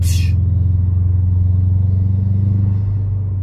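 Subaru WRX STI with upgraded exhaust mufflers, air filter and an added valve, its engine holding a loud, steady low rumble close by, with a brief hiss at the start and no speech.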